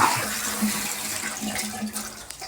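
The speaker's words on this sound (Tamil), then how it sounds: "இந்த தண்ணி ஊற்றிக்கிட்டு இருக்கா" Water is poured outdoors beside a kitchen where food is being prepared, making a continuous splashing trickle with a faint low hum underneath, moderately loud and with no speech.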